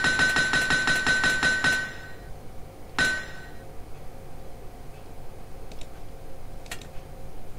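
Rapid metallic clanging of a hammer striking an anvil to repair a pickaxe in the video game Minetest, about a dozen quick ringing hits, then one lone strike after a pause, fairly loud over steady background noise.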